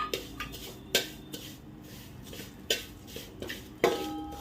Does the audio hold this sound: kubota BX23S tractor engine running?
no